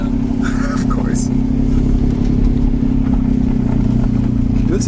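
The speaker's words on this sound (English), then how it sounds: "that exhaust leak sounds so bad" A Nissan 300ZX engine with an exhaust leak idles and runs steadily up close, a constant low rumble with rattly, puffing exhaust ticks on top and occasional clatter.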